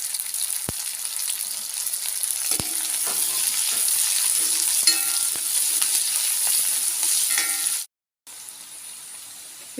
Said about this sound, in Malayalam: ഇതിപ്പോൾ സവാള നന്നായിട്ട് വഴറ്റി വന്നിട്ടുണ്ട്.